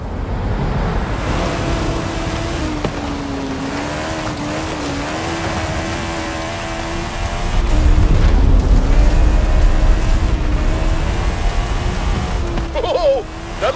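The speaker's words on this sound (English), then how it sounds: "Oh, that was a big one! I think the volcano is telling us we've overstayed our welcome." Active volcano erupting in Forza Horizon 5, heard as a deep rumbling roar that swells louder midway under a steady car engine drone, with a crackling burst near the end.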